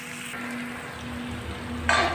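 Okra (bhindi) frying over high flame in a pan, a steady close sizzle with stirring scrapes and a brighter burst of crackle near the end.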